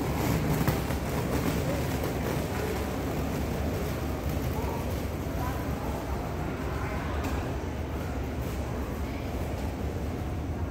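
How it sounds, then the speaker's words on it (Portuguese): Railway ambience at Belo Horizonte station, with a steady broadband rumble of a train running continuously throughout, no clear voices. "Vamos pegar o trem de Belo Horizonte até Vitória, na estação Pedro Nolasco."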